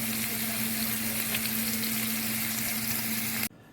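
Hamburger meat browns in a pan with a dense, even frying crackle that holds steady and close, then cuts off abruptly at the end.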